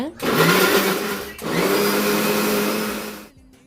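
A kitchen mixer grinder loudly whirs through coconut, tomato, onion, garlic, ginger, cashews and fennel in two bursts with a short pause between them, then cuts off abruptly.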